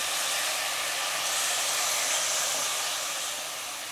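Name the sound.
lamb chops frying in oil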